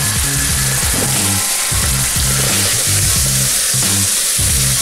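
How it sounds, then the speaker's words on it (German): Seasoned food with thyme and sea salt stirred in a frying pan on a hot stove: a continuous steady sizzle with repeated scraping strokes of the spoon against the pan, loud and close, no talking. "Durchrühren nochmal."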